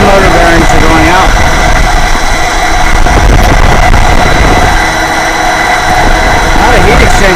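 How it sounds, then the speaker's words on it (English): AAON 5-ton HVAC fan motor with failing bearings runs loud and steady, a constant mechanical drone with rough, grinding texture throughout, close to the listener. "Fan motor bearings are going out."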